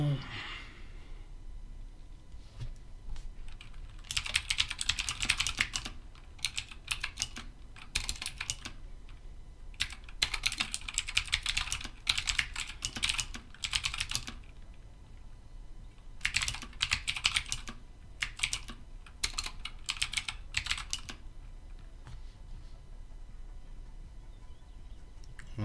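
Bursts of close computer keyboard typing come in several clustered runs of rapid clicking separated by quiet pauses, with soft breathing and faint room noise between the bursts.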